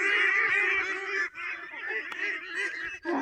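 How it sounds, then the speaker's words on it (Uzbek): Geese on a poultry farm that also keeps ducks honk loudly and close, a continuous overlapping chorus of nasal calls with short pauses between bursts. "G'ozlarga yangi uy qilyapmiz."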